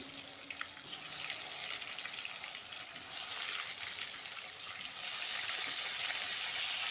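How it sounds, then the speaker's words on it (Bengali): Cut potatoes with salt and turmeric fry in oil for a Bengali chicken aloo jhol, making a faint, even, rushing sizzle that holds steady throughout with no talking. "তো এবার খুব ভালোভাবে আমরা আলুটাকে ভেজে নেবো"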